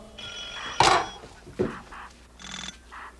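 Telephone ringing in a dramatized 1979 military headquarters scene, a short bell-like ring burst with clunky handling knocks around it, fairly close and alone without speech.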